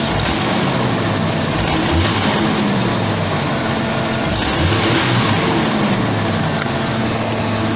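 A 1989 Jeep XJ engine with a broken throttle cable runs steadily nearby, a loud continuous rumble that rises and falls slightly in pitch, with no talk over it.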